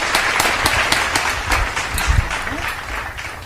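A crowd at a school competition final applauds a collège team, a few seconds of dense, fairly loud clapping with scattered sharper claps.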